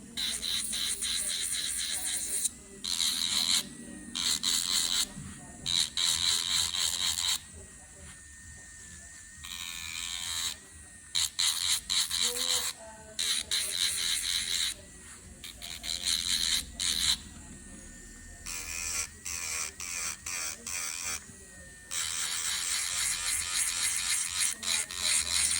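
An electric nail file fitted with a fine sanding band buffs the shine off gel nail extensions, a thin high-pitched whir that comes in repeated bursts of a second or two, broken by short pauses between passes.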